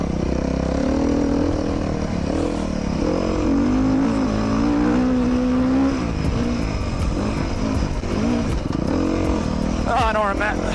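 A Beta 390 RR-S dual sport motorcycle rides through deep sand at the El Mirage OHV area, its engine droning loud and steady with rising and falling revs throughout, close to the rider.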